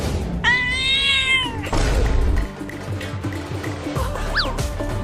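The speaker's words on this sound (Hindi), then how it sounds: "अरे वाह, वो रही एक बिल्ली।" A cat gives one long, clear meow near the start, followed by thuds and scuffling, then a shorter rising mew near the end.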